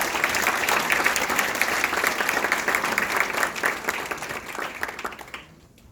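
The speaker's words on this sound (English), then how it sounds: "With a huge round of applause, please welcome our chief guest, Mr. Keshav Murugesh" Loud, sustained applause from a large audience, a dense wash of clapping that fades out near the end.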